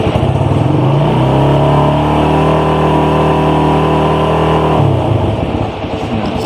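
A Suzuki Satria FU150 motorcycle engine is revved up loud and close, pitch climbing and holding high for a few seconds before dropping back to a rough idle.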